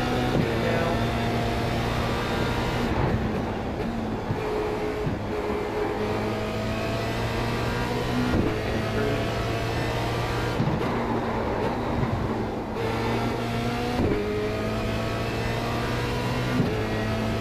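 A Formula Renault 2.0 race car in the iRacing sim lapping Zolder Circuit, its engine holding a loud, steady drone. The pitch shifts through gear changes and throttle lifts into the corners, and no talk is heard over it.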